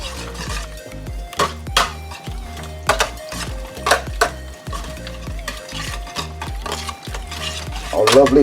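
Fritter batter being stirred and folded together with chopped apples in a bowl, producing a steady series of wet, thick mixing strokes and soft utensil clicks against the bowl, close and fairly loud with no talking.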